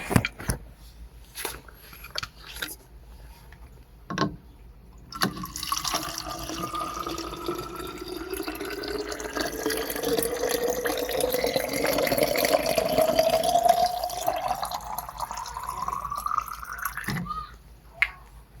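Water runs from a tap into a container, starting after a few scattered knocks and drips and filling steadily with a rising pitch, then stopping near the end.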